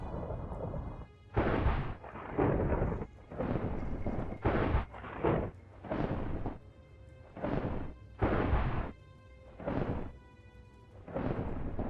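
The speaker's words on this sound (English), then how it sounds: "it decides to thunder and lightning for a very long time and do many, many strikes" Minecraft thunder and lightning strikes crash again and again, about ten loud booming bursts in quick succession separated by brief lulls, with no talk.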